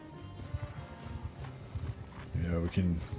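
Horse hooves clip-clop in the Warhammer Old Realms video game, a quick rhythmic trot that grows louder near the end while someone talks over it.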